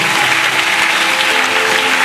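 A church congregation at a Sunday service claps together in loud, steady applause that fills the room, with no voice standing out.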